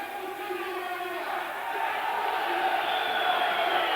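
Spectators cheer at a 1993 wrestling championship match between Radoviš and Kočani clubs, a steady, dense crowd roar that swells slightly louder toward the end.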